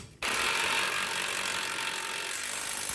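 Ratchet cranking down the tie rod nut on a 2024 Ford F150 during a leveling kit install, a fast continuous close clicking burst that starts abruptly and runs steadily to the end.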